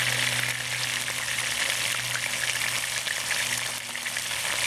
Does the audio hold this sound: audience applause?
no